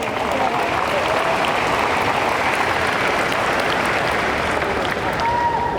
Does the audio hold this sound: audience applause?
yes